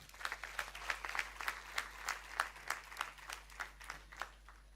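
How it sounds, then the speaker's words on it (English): A small audience at a college graduation day claps for guests. The applause is fairly quiet and sparse, with individual claps audible in an uneven rhythm over a low steady hum. "Please give them a clap."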